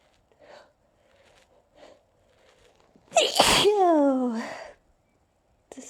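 One loud, close sneeze bursts out with a sharp explosive onset and trails into a drawn-out voiced cry. Quiet breaths come before it and silence follows.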